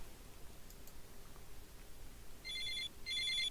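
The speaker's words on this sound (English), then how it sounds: "Nazar's phone rings." A phone in the visual novel Snoot Game rings twice near the end, two short electronic trilling bursts over a faint, quiet background with no talk.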